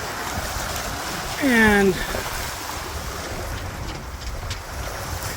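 A Haines Hunter trimaran under sail with a reefed main, pushing through waves in strong wind: constant rushing water and wind buffeting the microphone, with a brief tonal squeak and a single spoken word over it.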